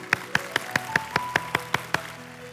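A church congregation claps in unison, about ten evenly spaced sharp claps at a brisk, steady rhythm, fairly close, with a low sustained tone underneath.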